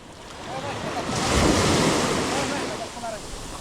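Ocean waves wash and surge in a swelling roar, with steady wind buffeting the microphone out at sea.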